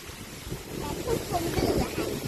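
Outdoor wind gusts buffet the microphone in a low, rumbling rush that swells and eases, steady and fairly close, with a voice talking faintly in the background.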